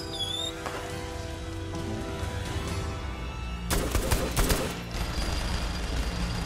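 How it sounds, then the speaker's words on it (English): Rapid gunfire bursts from a shooting contest in Saints Row The Third, continuous over a busy game soundscape of music and effects, swelling into a denser, louder volley near the middle. "This is really amazing shooting"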